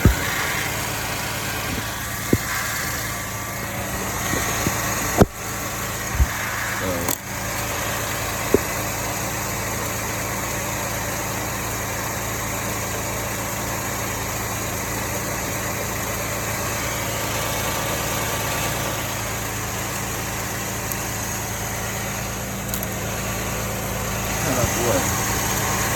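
A car's engine idles steadily close by during troubleshooting of a no-start alternator problem, a constant low hum with a few sharp clanks and taps near the start and no notable change in speed.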